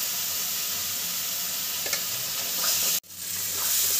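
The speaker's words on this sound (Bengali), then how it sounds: "মশলাটাকে খুব ভালোভাবে কষিয়ে নেবেন। তেলকটা দিয়ে দিই, কষে নিই একটু।" Ground spice masala (cumin, turmeric) fries in oil in a pan for vetki fish bone chorchori, a steady loud sizzle with scraping stirs, briefly cut then resuming.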